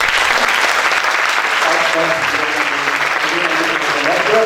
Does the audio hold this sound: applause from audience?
yes